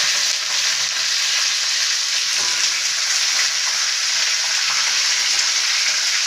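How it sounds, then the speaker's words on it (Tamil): Crab frying in a kadai, a steady, dense sizzle of hot oil that holds even and fairly loud throughout with no voices. "கடுகு நல்லா பொரிஞ்சிச்சு இப்போ நண்டை கடாயில் போடுறோம்"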